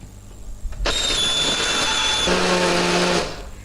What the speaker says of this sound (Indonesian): Hari ini aku pakai blender aja.